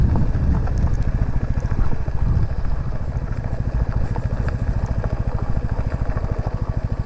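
A Royal Enfield Classic 350 single-cylinder motorcycle being ridden off road, its steady engine thump rapid and loud from start to finish, with rumble and clatter from the rough track and no talking.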